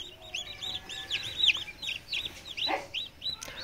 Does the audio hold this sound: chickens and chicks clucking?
yes